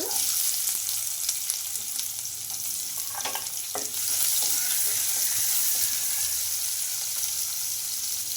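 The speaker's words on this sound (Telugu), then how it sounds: "కడాయి పెట్టేసుకుని ఆయిల్ కూడా వేసేసుకున్నాను ఆయిల్ కూడా హీట్ అయిందండి ఇంకా కట్ చేసుకున్న ఆనియన్స్" Chopped onions sizzle and fry in hot oil in a kadai, a steady close crackling hiss throughout with occasional stirring scrapes and a brief splash of tap water.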